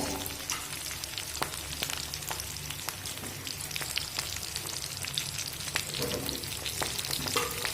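Capsicum and onion stir-fried for dhaba-style chilli chicken, giving a dense, even crackling sizzle with scattered pops and light stirring scrapes, steady and close throughout.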